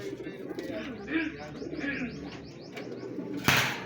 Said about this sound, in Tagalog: mga kalapati natin dito.